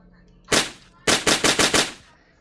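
Gunfire in an online shooter video game: one loud shot, a brief pause, then a rapid burst of five sharp, evenly spaced shots, close and prominent with no talking over them.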